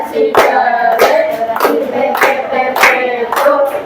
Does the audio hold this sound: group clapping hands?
yes